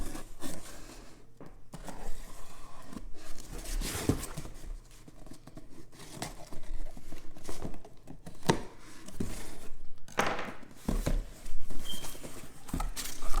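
An old little kitchen knife slicing open a fitted Yankee hat box: repeated close scraping and tapping cuts through cardboard and tape in an uneven rhythm, with no voices.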